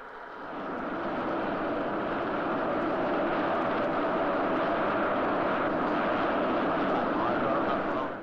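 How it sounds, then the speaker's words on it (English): Sea King anti-submarine helicopter flying, a steady loud engine and rotor roar that fades in and holds at a constant level throughout, with no talk. "The carriers deploy highly capable Sea King anti-submarine helicopters to search out submarines"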